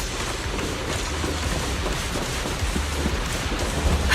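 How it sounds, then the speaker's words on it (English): Steady wind and rain in a video game's stormy underworld, a dense continuous rush with low rumbling gusts, loud and unbroken throughout with no voices. "The wind and rain are picking up."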